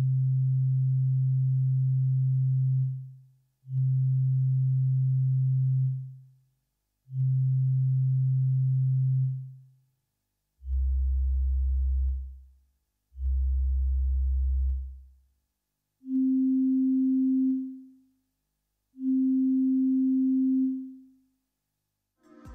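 A Yamaha DX7 synthesizer plays a series of sustained tones from repeated key presses, seven clean notes with smooth fades, first at a middle pitch, then two low notes, then two higher ones, each separated by short silences.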